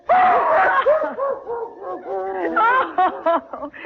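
Dog barks and growls in an old-time radio comedy scene set at Christmas, a steady run of animated barking and yapping mixed with laughing voices.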